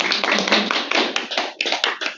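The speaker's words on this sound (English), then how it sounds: "Round of applause for Lee." A demo day audience applauds after a presentation with a short, close burst of brisk clapping that swells and eases over about two seconds.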